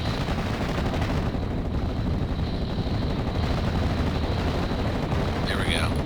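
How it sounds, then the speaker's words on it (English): Machine gun fire from a World War II battle in the strategy game Normandy 44, a dense, steady rattle of gunfire and battle noise running loudly throughout, with no clear pauses. "These machine guns just aren't penetrating that half-track armor."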